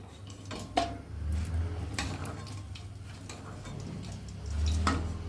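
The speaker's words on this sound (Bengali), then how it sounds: "এখন বেগুন ভাজাগুলোকে তুলে নেব" Fried eggplant slices being lifted out of a tawa: a few close clinks and scrapes of a utensil on metal over a steady low hum, with no talking.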